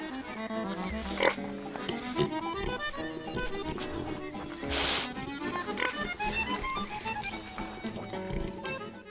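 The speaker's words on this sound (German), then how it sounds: "Die Arbeit mit dem Trüffelschwein ist nichts für hektische Gemüter." Intelligent domestic truffle pig working slowly through the soil, grunting and snuffling amid a busy musical soundtrack that plays throughout.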